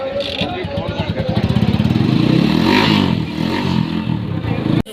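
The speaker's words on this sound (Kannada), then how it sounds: "ಅಪಾಚಿ ಬೈಕ್ ಇಂಜಿನ್ ಅಣ್ಣ ಇದು." An Apache motorcycle engine fitted to a trolley weeder runs close by at a loud, rapid idle with a rising rev and mechanical clatter, briefly cut off at the very end.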